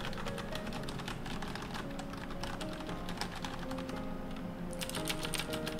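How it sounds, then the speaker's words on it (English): Fast continuous typing on a Das Keyboard mechanical keyboard fitted with Cherry MX Brown switches, a dense run of close, crisp key clicks with no voices. "These right here are the Cherry MX Browns on the DOS keyboard."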